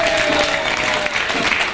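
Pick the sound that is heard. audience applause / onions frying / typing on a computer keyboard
audience applause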